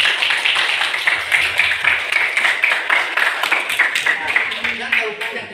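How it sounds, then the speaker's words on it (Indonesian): Rhythmic group clapping by students in a classroom lesson, quick regular claps in unison, moderately loud and steady. "Tepuk tangan."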